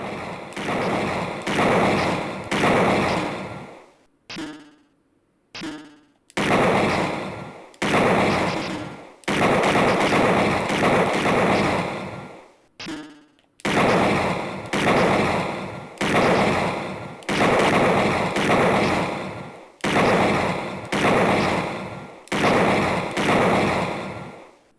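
Loud, repeated bursts of gunfire from the Sega CD game Snatcher's shooting range, coming in rapid clusters with a few short gaps, nearby and dominant with no talking over it.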